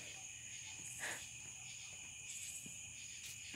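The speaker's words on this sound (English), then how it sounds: "Probably a bunch of bugs up there" Insects chirp at night along a roadside with faint, high, steady trilling and a few brighter bursts, heard quietly at a distance with no talking.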